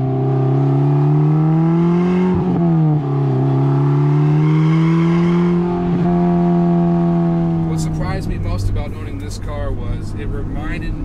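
Modified Porsche 944 Turbo pulling hard under full throttle, its loud engine note climbing steadily for several seconds as the turbo comes on, then giving way to sharp rattling clicks near the end.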